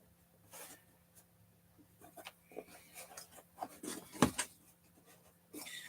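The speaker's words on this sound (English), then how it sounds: "because I'm just cutting foam right now" A knife blade slicing through foam makes soft, scratchy rubbing and scraping strokes that are irregular and close but faint, building to a brief louder scrape near the end, with no squeaking.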